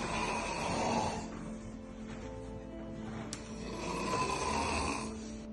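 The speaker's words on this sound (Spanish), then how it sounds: "os voy a dejar por aquí unas imágenes mías roncando para que flipéis" A woman snoring in her sleep, with slow rhythmic rasping breaths that swell and fade in a steady cycle, fairly close and continuous.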